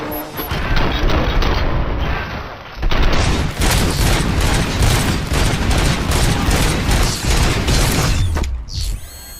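Loud, dense gunfire in the RoboCop: Rogue City video game, with rapid overlapping shots and mechanical clatter that sustain for about eight seconds before dropping off abruptly.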